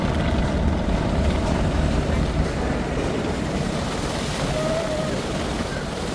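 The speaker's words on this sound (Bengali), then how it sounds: "এই থ্রাস্টের ঢেউয়ের ফলে আমাদের লঞ্চকে নাড়িয়ে দিচ্ছে" Choppy river water churned up by a passing passenger launch's propeller wash slaps and rushes steadily around another launch, loud and continuous under wind noise.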